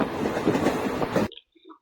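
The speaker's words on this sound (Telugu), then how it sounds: "అలా చూస్తూనే నెల్లూరుకి అయితే ఎంటర్ అయింది ట్రైన్" A train heading into Nellore rumbles steadily with a dense rolling roar from wheels and carriages, close and continuous, before cutting off abruptly into near silence with a few faint distant sounds.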